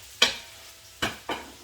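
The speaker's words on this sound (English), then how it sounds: "that's the onion going in now" Chopped onion sizzles in a hot pan for a biryani, with three sharp scrapes of stirring at uneven intervals over a low continuous frying hiss.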